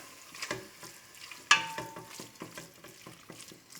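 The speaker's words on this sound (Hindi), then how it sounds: "कीमे की अब मैं भुनाई करने जा रही हूँ" Minced meat keema roasting in a pan with steady sizzling and repeated stirring scrapes, close and moderately loud, with one sharper clank partway through.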